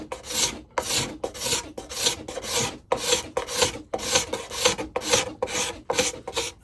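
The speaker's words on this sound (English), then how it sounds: "you can scrape off those nice bits of varnish, get rid of them for a nice clean finish" A bent metal ruler works as a scraper across varnished wood, giving about ten rhythmic, raspy scraping strokes separated by short pauses, close and clear with no talking.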